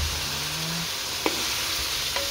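Chicken simmers in a covered pan, giving a steady soft sizzle and hiss with a couple of faint lid or utensil clicks, and no voices.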